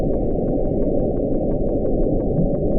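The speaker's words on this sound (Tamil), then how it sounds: "அண்டர் வாட்டர் மைக்ரோபோன்ஸ் அழைக்கப்படும் ஹைட்ரோபோன்ஸ் இந்த விசித்திரமான ப்ளூப் சவுண்ட பல தடவை பதிவு செஞ்சிருக்கு" A low, band-limited underwater rumble captured by hydrophones in the Pacific Ocean in 1997, the mysterious 'Bloop', rolling with faint regular pulses throughout, dense and booming with nothing above the deep range.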